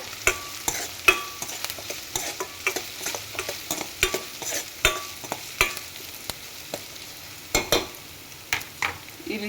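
Spices with asafoetida fry in a pan, a steady sizzle broken by frequent sharp clinks and scrapes of a stirring spoon, close and fairly loud, with no talking.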